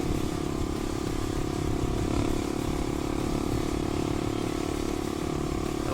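An old enduro dirt bike engine runs steadily, a continuous close buzzing drone with rough mechanical clatter throughout, no talking.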